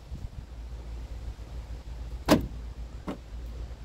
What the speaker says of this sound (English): So you can lock and unlock the truck from the inside or outside.